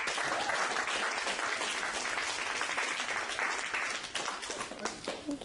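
An audience at a self-esteem club event claps, a dense, loud burst of applause that holds steady and thins slightly toward the end.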